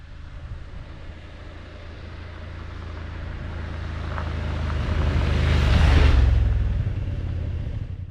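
A BMW 750GS motorcycle approaches from a distance, its engine rumble swelling to a loud peak as it passes close by, then fading as it rides away.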